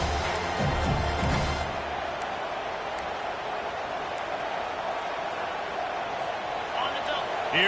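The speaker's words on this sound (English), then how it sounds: "this crowd is turning it up a notch" Steady stadium crowd roar from the Madden football video game, a dense continuous cheer holding level throughout with a commentator's voice talking over it.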